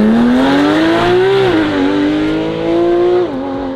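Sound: Porsche GT3 RS driving on circuit, warming tires

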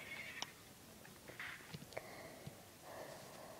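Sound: horse neighing in the video game Survival Craft

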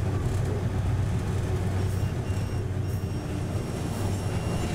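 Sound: train moving through railway switches in Myanmar

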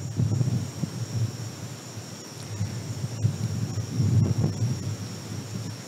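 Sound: strong southeast monsoon wind with cicadas at night

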